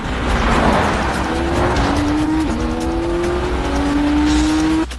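Race cars roar past close by as a Lotus blocks a trailing Alfa Romeo, with a sustained engine whine rising in pitch through upshifts and a brief dip before the sound cuts off.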